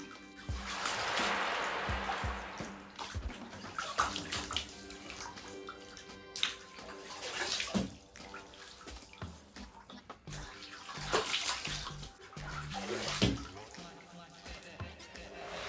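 Water pours and splashes over dreadlocks being washed, a running, gushing wash that swells and fades in several waves over about fifteen seconds, close by, with background noise throughout.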